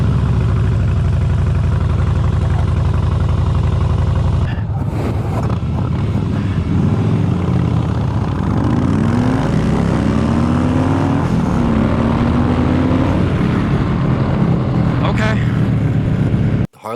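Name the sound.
Harley-Davidson Softail Slim 103 twin cam engine starting and idling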